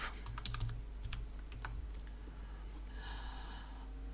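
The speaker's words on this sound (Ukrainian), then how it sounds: "повертаємося в пошукову систему і пишемо Польща герб" A search query typed on a computer keyboard: a short burst of quick, light key clicks near the start, then quieter scattered taps, close and faint over a low background hum, no speech.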